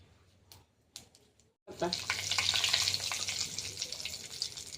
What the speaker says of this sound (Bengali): দিয়ে দেবো, পেঁয়াজ একটু ভেজে নেব।